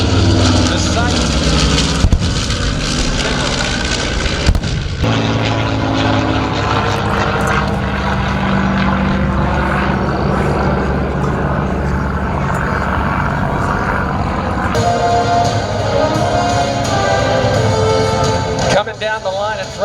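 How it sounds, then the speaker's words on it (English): A B-25 bomber's propeller engines drone loud and steady overhead at an air show with a WWII battle re-enactment, while an announcer talks over the sound throughout. "as the B-25 flies overhead"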